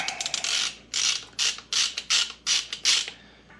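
A ratchet tool unscrews the T30 Torx screw holding the front speed sensor on a KTM Duke 790 motorcycle, giving about eight quick, evenly spaced ratcheting clicks, close and crisp, with no voices.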